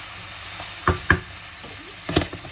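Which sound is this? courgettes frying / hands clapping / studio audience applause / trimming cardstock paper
courgettes frying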